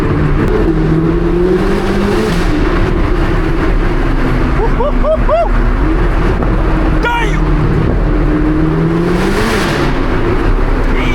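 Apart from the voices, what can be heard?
sports car engine revving and accelerating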